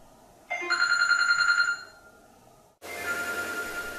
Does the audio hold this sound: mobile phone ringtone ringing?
yes